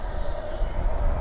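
Airliner landing at DFW at night with spoilers up and thrust reversers deployed, a brief steady rumbling engine roar at moderate distance.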